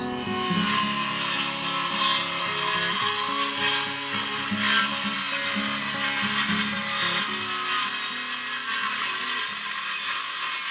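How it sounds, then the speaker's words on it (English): A Bauer 6-1/2 inch cordless circular saw cuts through wood with a continuous loud whine and grinding rasp, heard up close without pause or voices. "The cut on a brand new Bauer blade is very, very, very nice."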